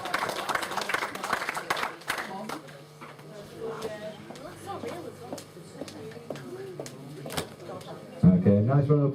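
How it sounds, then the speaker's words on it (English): Audience clapping at a touring magic show, moderately loud at first and then tapering into scattered claps, with a voice heard underneath and a louder burst of sound at the very end. "Okay, nice round of applause as well."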